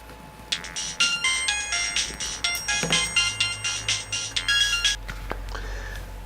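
A telephone rings with a repeating electronic ringtone melody, a steady run of bright pulsing tones over a low hum, fairly close and clear, with no talking.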